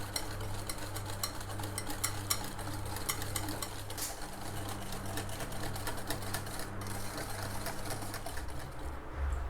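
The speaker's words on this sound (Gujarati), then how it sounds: "હવે આ બધું ફેટી લઈશું વિસ્કરની મદદથી, અને આ રીતે આપણે એક ધારું ફેટવાનું છે એક જ દિશામાં" A whisk beats nankhatai batter in a bowl in one direction, giving a fast, continuous, even clatter that stays close and steady throughout.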